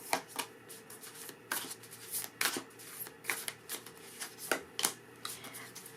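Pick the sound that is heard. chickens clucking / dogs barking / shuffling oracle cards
shuffling oracle cards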